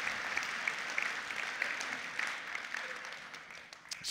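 Audience clapping at a tech talk on React, a dense, steady patter of many hands at moderate distance that carries through a few seconds and starts to thin toward the end.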